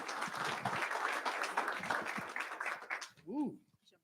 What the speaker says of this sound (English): How about giving her a round of applause?